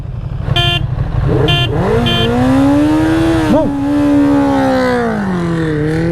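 A Ducati Streetfighter V2 motorcycle accelerates hard up close. A few short beeps sound first, then the loud engine note climbs steadily in pitch, dips briefly and keeps pulling.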